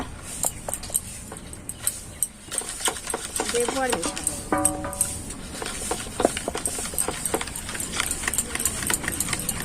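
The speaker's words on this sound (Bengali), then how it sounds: "বন্ধুরা সমস্ত উপকরণটা খুব ভালো করে মিশিয়ে নিয়েছি" Biscuit-crumb cake batter being stirred in a bowl, with a quick, continuous run of spoon taps and scrapes close by, a brief voice briefly rising over the mixing.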